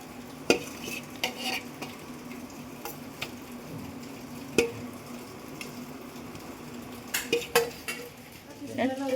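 Chicken stirred into a pot of cooked rice for kuzhimandi, with a low sizzle under scattered metal spoon scrapes and clanks against the pot, close by, busiest near the end, with no talk.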